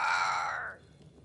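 A crow in the video game Banishers: Ghosts of New Eden gives a single loud, harsh, drawn-out caw that fades out after about half a second, leaving near silence.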